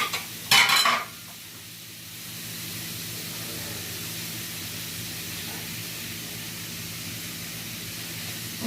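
Ground beef browning in a pan while being stirred: a sharp clatter of a utensil against the pan, then a steady, even sizzle that continues without talk.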